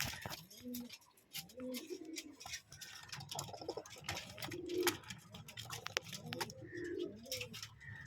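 Pigeons in a loft give repeated soft, throaty coos, several birds close by, with rustling and some quiet talk in the background.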